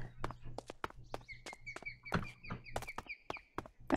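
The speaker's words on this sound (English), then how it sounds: "Is my feetsies, is my footsteps too loud?" Footsteps of a player character in Minecraft, crisp evenly spaced steps in a quick walking rhythm, close and clear, with faint bird chirps in the background.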